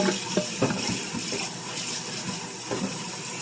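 Water runs steadily from a tap into a kitchen sink during washing, a continuous splashing wash with a few sharper knocks and splashes close by, and no voices.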